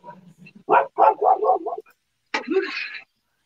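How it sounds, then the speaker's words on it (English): A happy dog barks in a quick burst of four or five close, loud barks, then a short pause and a single whining yelp, with soft low murmuring at the start. "You can mute me because my dog's a little happy right now."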